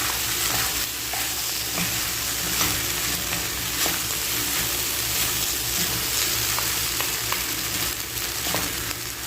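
Dry squid adobo with chili sizzles hard in the pan, a dense continuous frying hiss under steady stirring scrapes, close and loud without any talking.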